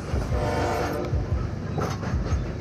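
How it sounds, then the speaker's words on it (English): A moving train in the VR game Into The Radius rumbles steadily up close, its wheels knocking in a repeating clickety-clack rhythm over a continuous low roar, with no voices. "Wait, the train is moving."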